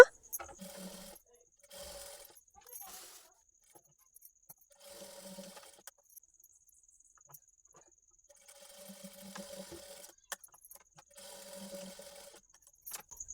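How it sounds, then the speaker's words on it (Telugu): A sewing machine stitches a blouse shoulder seam in short, separate bursts of quiet mechanical whirring, with pauses between runs. "పైకుట్ట అనేది వేసుకోండి"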